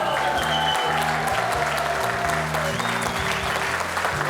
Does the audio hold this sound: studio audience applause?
yes